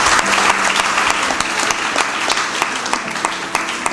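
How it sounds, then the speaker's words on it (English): A student debate audience in Nigeria gives the debaters a steady round of applause, with many hands clapping densely and continuously from start to finish. "Clap for them once again."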